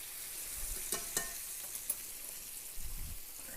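Chicken browning in a hot pan on a stove, a steady close sizzle with scattered louder crackles and pops and a few dull clunks, no speech.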